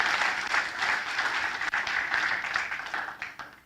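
Church congregation applauding during a sermon, a steady wash of clapping from many hands that carries on throughout, moderately distant and without talk over it.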